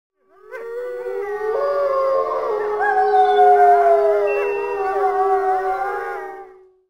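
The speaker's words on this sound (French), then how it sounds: "Le clan répondit par un aboiement fort dont le fracas retentit comme la chute d'un arbre" A wolf pack howls together in long, rising and falling wails that overlap and hold steady for several seconds before fading out.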